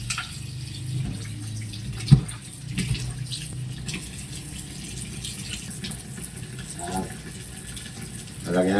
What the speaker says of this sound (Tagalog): Lalagyan natin idol ng tubig.